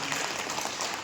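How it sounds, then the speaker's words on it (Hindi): Brief burst of steady audience clapping at a motivational talk, dense and even, heard on its own with no speech over it. "एक बार जोरदार तालियां"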